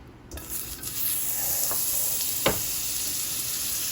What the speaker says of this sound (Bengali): এখন আমি প্যানের মধ্যে দিয়ে দিব 2 টেবিল চামচ বাটার।